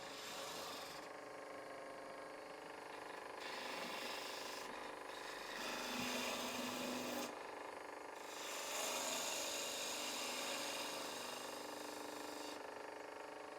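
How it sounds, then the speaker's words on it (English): Back hollowing a wooden box on a lathe gives a continuous quiet scraping and whirring, rising and falling in intensity as the tool cuts, close and without talk. "Bit of back hollowing here."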